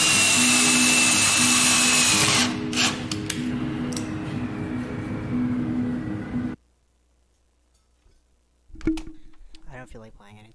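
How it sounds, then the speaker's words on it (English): A drill bores straight through a small piece of metal tubing for mounting on a trailer corner, a loud grinding whine that eases into a lower motor hum, stops, and gives way to talking. "and then drilling a hole straight through"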